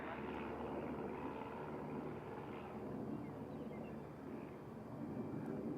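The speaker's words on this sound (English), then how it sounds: "This is a Pilatus" A Pilatus PC-12 turboprop on the ground at Centennial Airport, giving a faint, steady engine drone with little change across the moment.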